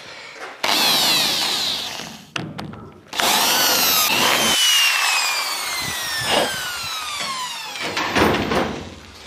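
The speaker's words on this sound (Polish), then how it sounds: "Wiercimy dziurę." A power drill bores a hole through wood while building a custom extension for an Amazone machine, whining loudly up close in long bursts with stops, the motor pitch sliding as it cuts.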